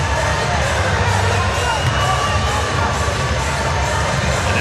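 A sellout crowd of Perth Wildcats fans roars and cheers throughout at the 2014 NBL Grand Final basketball game against the Adelaide 36ers, a dense, constant wall of voices with whoops and shouts.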